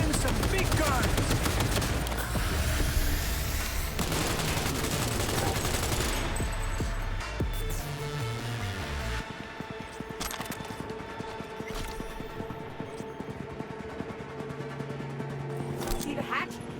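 Heavy gunfire in Cyberpunk 2077 Phantom Liberty, dense bursts and rapid shots in a loud chaotic firefight that thins into scattered cracks and impacts over a rumbling game backdrop, with voices talking over it.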